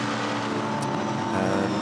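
A Maserati GT4 race car in patriotic colours roars past at Monza, its engine a loud, steady drone that swells slightly near the end of the short pass.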